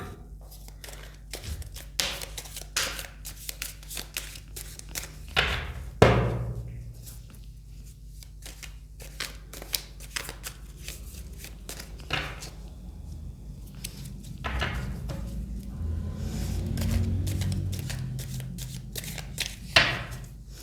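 Tarot cards being shuffled by hand, a steady stream of soft riffling and flicking with occasional louder snaps, close and fairly quiet over low background noise.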